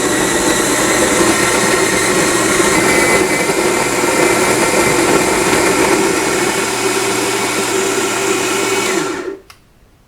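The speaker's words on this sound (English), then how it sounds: "Now I'll go ahead and grind the beans, and I like to set it between coarse and medium." An electric coffee grinder runs steadily for about nine seconds, loudly grinding Yellow Santos Bourbon coffee beans to a coarse-to-medium setting, then cuts off abruptly into silence.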